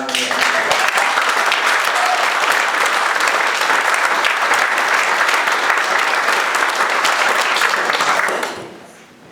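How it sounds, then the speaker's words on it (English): Sustained audience applause in a conference hall fills the space loudly and steadily for about eight seconds, then fades quickly to quiet. "this is probably the last applause"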